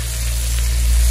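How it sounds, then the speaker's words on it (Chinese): Steady, close sizzling of blistered green peppers stir-fried over high heat in a wok with oil, garlic, fermented black beans, salt and soy sauce. The sound is an even, continuous hiss with no talk. "大火给它翻炒均匀，炒出入味。"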